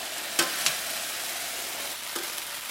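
Beef for Cantonese beef with egg sauce being scooped out of a hot pan, with two sharp scrapes near the start and a fainter one later over a continuous, even sizzle.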